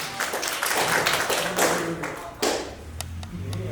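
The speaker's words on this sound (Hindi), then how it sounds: "पर उसका भी तालियां हो जाए" Hand clapping from a group at a CPR training session, a loose, uneven patter of claps with a few sharper individual slaps, with faint background noise underneath.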